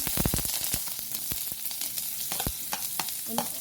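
Onion sautéing in hot oil in a wok-style pan, a steady close sizzle broken by sharp crackles and pops of spattering oil, with no talking.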